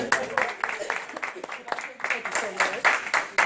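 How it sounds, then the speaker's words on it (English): Applause from the audience at a diabetes expo show, a dense crackle of many hands clapping at once, steady and moderately loud, with an event host's voice cutting through over the top. "They give yourselves a great big round of applause."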